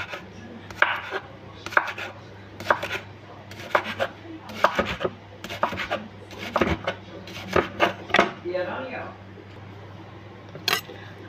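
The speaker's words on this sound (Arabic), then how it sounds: "وهنا بقى ايه نبدا نقطع الخيار كده زي ما انتم شايفين." Knife chopping cucumber on a cutting board for salad, clustered bursts of quick sharp taps separated by short pauses, close and crisp, with a voice talking intermittently.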